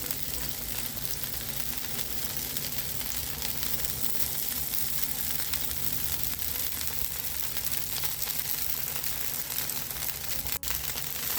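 Rava dosa fries in ghee on a hot pan with a steady, even sizzle and hiss that continues throughout, broken only by a single small click near the end.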